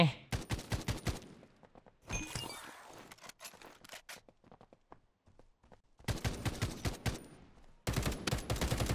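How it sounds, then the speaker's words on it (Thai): Gunfire in BTX, an anime-style battle royale mobile shooter, comes in loud rapid bursts of automatic shots, pausing in the middle with scattered single shots and footsteps before dense volleys resume at the end. "อุ้ยมีคนยิง มีคนยิง"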